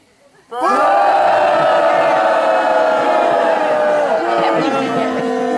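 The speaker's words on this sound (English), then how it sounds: "will you please accompany me in booing them off the stage?" An audience at a school talent show booing performers off the stage: a sudden, loud, sustained roar of many voices that starts after a short quiet moment and carries on without a break.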